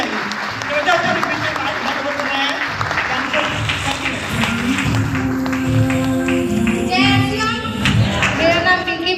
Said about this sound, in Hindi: आप लोग की जबरदस्त ताली बजाइए